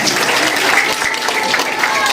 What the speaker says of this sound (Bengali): সবাই হাততালি করে হাততালি দাও